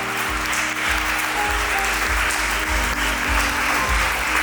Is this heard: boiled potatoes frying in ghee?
no